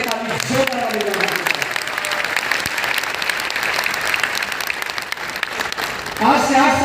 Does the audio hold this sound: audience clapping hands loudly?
yes